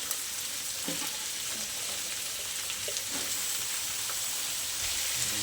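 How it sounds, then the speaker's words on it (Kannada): Sliced radish frying in hot oil in a pan for a Kannada-style radish chutney, a steady broadband sizzle with faint stirring knocks scattered through, close and continuous with no voices. "ಇದು ಆಯಿಲಲ್ಲಿ ಚೆನ್ನಾಗಿ ಫ್ರೈ ಆಗಬೇಕು"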